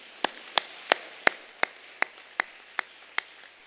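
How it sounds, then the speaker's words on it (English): At a school speech day, about nine sharp, evenly spaced claps ring out in a slow, steady rhythm, crisp and fairly close over a quiet room. "your parents, grandparents, guardians, and teachers deserve a round of applause too"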